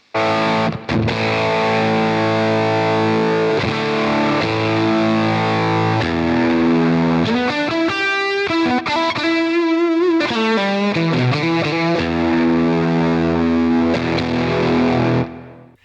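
Thick, compressed fuzz guitar through a Fjord Fuzz Embla pedal with the bias control brought back chugs through chords and a wavering lead line, loud, saturated and sustained throughout.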